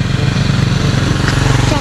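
Motorcycle engines on a street, a continuous loud, rough droning rumble close by with a pulsing low throb, filling the whole moment.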